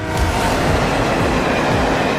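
A train rushes past on railway tracks in Tokyo, a loud, steady roar of wheels and rolling stock close by, with faint rhythmic clatter throughout and no voices.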